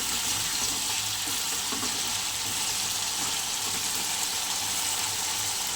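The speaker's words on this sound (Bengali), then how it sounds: "আর জল দিয়ে দিলাম।" Water pours into a sizzling pan of papaya, potato and prawn curry, a steady broadband hiss and rush of liquid over hot oil that holds unbroken for several seconds.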